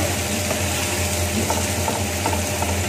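Garlic frying lightly in a pan for chicken pulao gives a steady, even sizzle with faint scraping ticks, heard alone and close.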